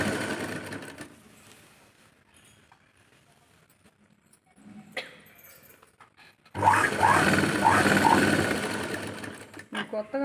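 A sewing machine stitches canvas near the end of a hem, running in a loud, steady burst through the last few seconds after a quiet stretch with faint handling noises and some low talk.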